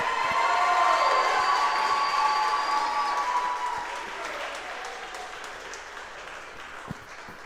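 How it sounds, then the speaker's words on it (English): Audience applause with some cheering for a second-place podium finisher at a 2021 BoMC fitness competition awards ceremony, a dense steady clapping that is loudest at the start and then slowly fades, with voices mixed into the crowd noise. "Let's keep the applause going."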